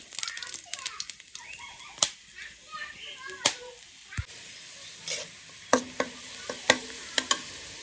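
Hot oil sizzles and hisses in a wok as ingredients are stirred, with sharp scraping clicks of the spatula at irregular intervals over a steady frying hiss, close by.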